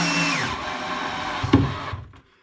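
A power drill drives a screw into a cabinet hinge plate in wood, with a close, steady whirring motor that ends in a brief tightening clunk and then stops.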